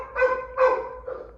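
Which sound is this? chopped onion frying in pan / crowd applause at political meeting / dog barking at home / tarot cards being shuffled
dog barking at home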